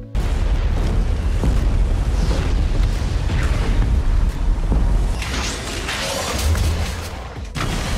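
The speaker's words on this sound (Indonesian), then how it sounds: "indikator tekanan kembali melonjak mencapai batas maksimal yang mengakibatkan ledakan besar terjadi di sana hingga menghancurkan ruang kontrol pengeboran." Huge explosion on an oil rig's drilling control room in a film scene, a dense, sustained roaring blast with rumbling booms and whooshing debris, loud and continuous throughout.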